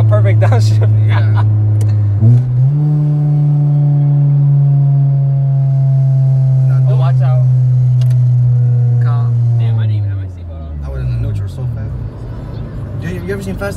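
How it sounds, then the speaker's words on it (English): An Acura RSX engine drones loudly at a steady pitch, its tone stepping up briefly as revs rise during a downshift, then dropping off as the car slows; people talk over the engine. "this sounds like a perfect downshift"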